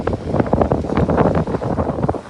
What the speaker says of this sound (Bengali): আর বাতাস তো বলার বাইরে